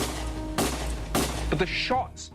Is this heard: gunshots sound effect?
yes